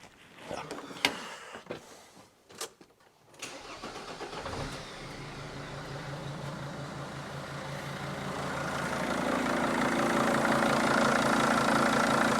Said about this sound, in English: start the truck again, and just see if it does draw, after a period of time, a decent vacuum.